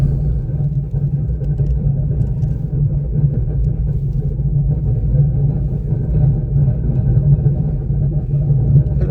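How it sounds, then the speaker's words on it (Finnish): A car rumbles loudly and without a break during a test drive, with a heavy, steady roar from the rear that does not ease. Nobody speaks. "Nyt pitää vetää vähän koevetoa autolla, niin aikamoinen jytinä kuuluu perästä kyllä nyt."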